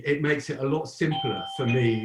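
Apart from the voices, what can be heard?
doorbell ringing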